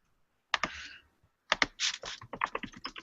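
Rapid clicking of computer keys, a short burst of typing, a pause, then a longer run of keystrokes, close and fairly crisp.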